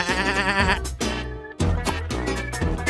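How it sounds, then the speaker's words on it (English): A goat bleats loudly in several wavering cries, close up, with brief pauses between the calls. "A goat."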